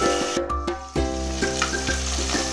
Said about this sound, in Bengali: মাছগুলো আমার ভাজা হয়ে যাচ্ছে এবার আমি তুলে নেবো